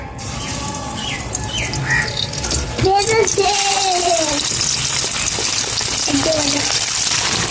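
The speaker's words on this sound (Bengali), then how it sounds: "গরম হয়ে গেছে, এবারে আমি মাছগুলোকে ভাজবো।" Fish pieces frying in hot oil for a radish and stingray curry, loud steady sizzling and spitting that jumps up sharply as the fish goes in, with a voice speaking over it.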